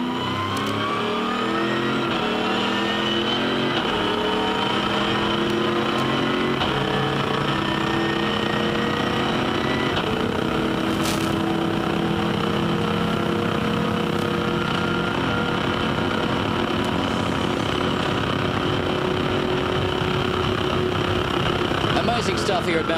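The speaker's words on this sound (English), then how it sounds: "a glorious sound, just an absolute superb sound from this 427 7-litre Chev-based engine" A race car with a 427 7-litre Chevrolet-based V8 screams past at Mount Panorama, Bathurst, during a 24-hour race, the loud sustained engine note climbing and shifting through gears for the whole stretch, under a commentator's voice.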